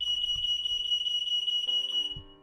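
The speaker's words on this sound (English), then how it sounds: "see what I mean about the fire alarm?" A smoke alarm beeps in rapid, steady pulses, a thin high tone held throughout, heard indoors under faint background tones with a few soft low thumps.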